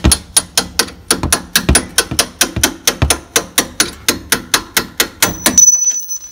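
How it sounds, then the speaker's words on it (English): A small hammer taps a blunt drift punch against a bolt on a Mazda Miata suspension in a steady, rapid series of about twenty sharp, ringing strikes, then stops. "using just a small blunt end drift to put in the hole"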